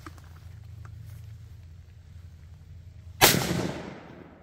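A single sharp rifle shot from a 6.5 Creedmoor with an HMR 24-inch barrel, firing 129gr Superformance SST ammunition, cracks loudly after quiet outdoor background and trails off in a short echoing decay.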